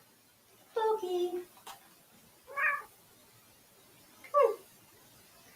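Pet cat meowing indoors, three separate meows spaced a second or two apart, close and clear, with a person briefly speaking near the start.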